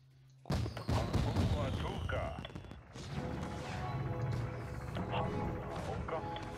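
Fireworks going off in the Spore Galactic Adventures video game: a dense, loud stretch of popping and crackling bursts that keeps on for several seconds, with a voice talking over it.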